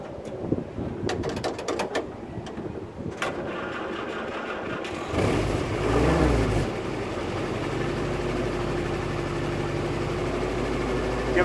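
A Willys jeep engine with clicking and clunking at first, then a steady low engine drone that rises briefly as it revs and settles into a rumbling idle, close and continuous with no talking.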